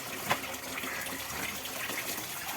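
Water runs steadily from a tap while clothes are washed, a continuous faint gush with a small splash near the start.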